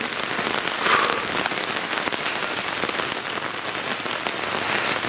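Steady rain pattering on a surface at a camp, a dense continuous hiss of drops with no voices, even and close throughout.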